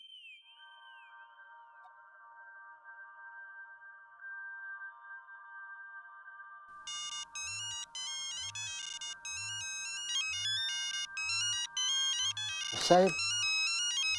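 A telephone rings with a repeating melodic electronic ringtone that grows fuller as it goes on, set against a bass pulse in a Marathi TV serial scene, with a brief spoken word and a sharp burst near the end.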